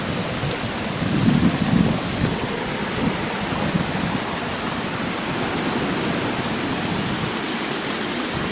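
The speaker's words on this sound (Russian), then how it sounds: "Вот такой вот небольшой водопад по дороге." Small roadside waterfall on Catanduanes island in the Philippines, a steady broadband rush of falling water with a brief louder surge near the start, continuous and fairly close with no talk.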